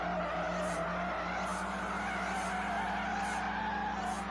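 A car skids and nearly spins out in the drifting game FR Legends, a long continuous tire squeal over a steady engine drone, with faint repeated higher chirps and no talk.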